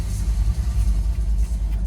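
Steady low rumble inside a moving car, a dense continuous road and engine drone with gentle pulsing swells, close and fairly loud, with no talking.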